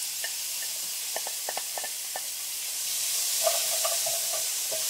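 Steady sizzle of a cooked mixture returned to a hot pan with olive oil, with scattered stirring clicks and scrapes over a constant frying hiss that grows slightly louder toward the end.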